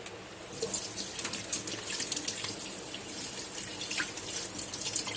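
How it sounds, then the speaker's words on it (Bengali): A spoon is washed under a running kitchen tap, water splashing and gurgling steadily up close with small clinks, while faint birdsong sounds in the background. "আর এই যে চামিচটা আনছি, এটা ধুয়ে দিই ভালো মতো"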